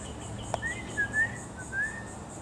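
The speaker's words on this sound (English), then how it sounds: "Big bird." A bird whistles in a few rising and falling calls over the open air of a Florida golf course, moderately near against a faint steady background.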